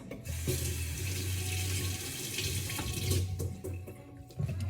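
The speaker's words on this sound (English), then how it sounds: "let's give these a rinse" Tap water runs steadily into a kitchen sink as Brussels sprouts are rinsed, a continuous close splashing stream with small shifts where the sprouts are moved under the flow.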